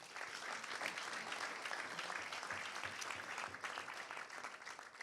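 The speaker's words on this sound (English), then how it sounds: "Let's give him a big round of applause." An audience at a hall of fame panel event claps steadily for a man, a dense, even patter of many hands that stays faint and distant for about five seconds without letting up.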